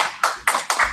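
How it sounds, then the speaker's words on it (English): Brief burst of clapping from a small audience at a Cincinnati Meteor developer meetup: four or five sharp, evenly spaced claps in about a second, close and fairly loud, with no talking. "Clap it all up, people."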